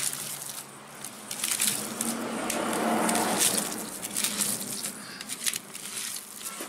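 Mashed ash gourd mixture is kneaded by hand in a bowl, giving wet squishing and soft patting, a continuous mid-level squelch broken by sharp crackly pats and presses, with no talk.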